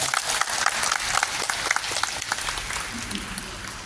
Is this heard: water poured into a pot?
no